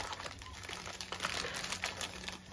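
Soft plastic packaging from a Temu diamond painting order crinkles in quick, irregular bursts close to the microphone, faint but continuous.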